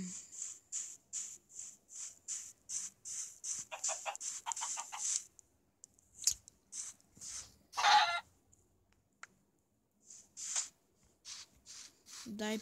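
Minecraft chickens cluck in a game, a run of quick, evenly spaced clucks that thin out into scattered bursts and a rustling scrape in the middle, fairly close and faint.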